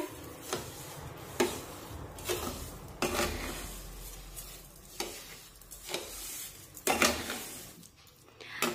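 A spoon stirring sugar into semolina sheera in a pan, with soft sizzling and repeated scraping strokes against the metal, each stroke a distinct swish at an unhurried pace, close and alone.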